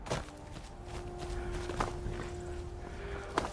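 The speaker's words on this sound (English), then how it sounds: "Hop onto my horse." Horse hooves clip-clopping on ground in the Skyrim video game, a few soft irregular steps over a low ambient game hum, faint and close.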